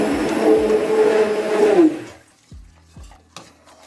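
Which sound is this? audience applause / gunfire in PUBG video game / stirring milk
stirring milk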